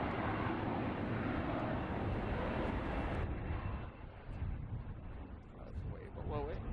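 A United airliner arrives at San Francisco airport, its broad engine roar loud and steady for a few seconds, then dropping to a quieter rumble as it passes, with faint voices in the background.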